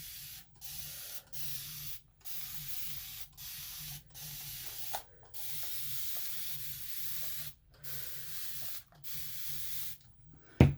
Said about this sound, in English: you're just going to spray it down